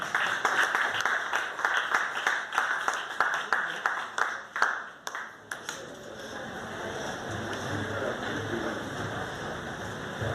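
Audience applause at a library anniversary ceremony in Haiti, steady rhythmic clapping for about five seconds that tapers into a scattered finish, followed by quiet room tone with a low murmur.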